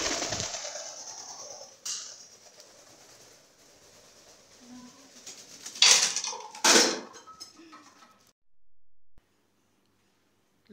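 A pet bird flaps and coos indoors: soft low coos mid-way, sharp bursts of wing flutter and rustling against its container up close, then near silence.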